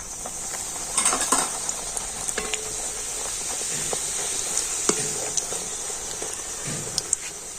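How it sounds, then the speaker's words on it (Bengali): Stale rotis frying in hot oil: a continuous bubbling sizzle with a few clinks and scrapes of a utensil against the pan, close and fairly loud, no talking. "আর এইভাবে চারটে রুটি আমি ভালো করে একদম লাল লাল করে ভেজে নিচ্ছি"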